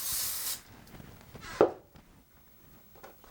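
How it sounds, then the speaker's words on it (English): Canola oil spray hisses onto a pan in one short, close burst, followed by a soft clunk and faint kitchen handling noises. "So I'm going to lightly spray the pan,"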